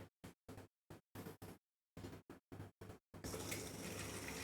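A kitchen tap runs into a sink before washing dishes. Choppy bursts of water give way to a loud, steady, close stream.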